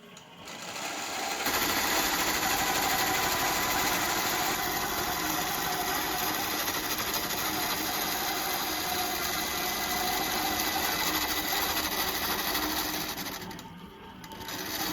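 A sewing machine stitches steadily for most of the span during a Pro Designer project, its motor running in a continuous, even whir that eases off near the end before a short pause.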